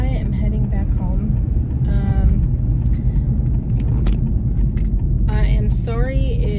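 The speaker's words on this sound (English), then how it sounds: "I am sorry if you can hear my car. It is pretty loud, especially when I'm driving." A loud car interior while driving on the road, with a constant heavy low rumble of engine and road noise, while a person talks over it throughout.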